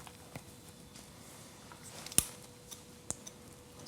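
Scissors make a few sparse, small snips while trimming a child's bangs, the crispest cut standing out midway against a quiet room.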